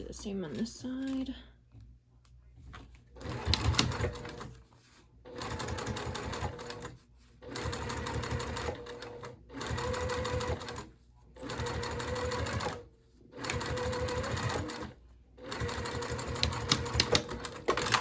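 A domestic sewing machine runs in several steady bursts of rapid stitching with brief stops between, basting the side of a small circular wristlet bag, heard close up.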